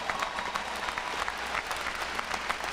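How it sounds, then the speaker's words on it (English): Parents and guests in the audience at a 2015 Siena College graduation ceremony applaud a commencement speech, with many hands clapping in a steady, moderately loud wash and no talking. "The applause you hear is actually from your parents"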